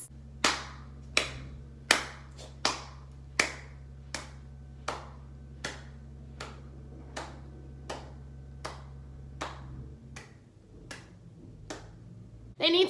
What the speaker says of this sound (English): So what you're gonna do is clap your hands like this.